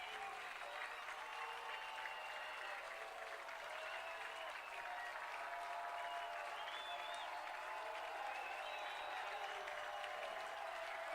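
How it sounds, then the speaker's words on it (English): High school football crowd at Carson Park on their feet during a Hudson Raiders versus Eau Claire Memorial game, a steady, distant roar of cheering and clapping that holds throughout without breaks. "Crowd on their feet at Carson Park."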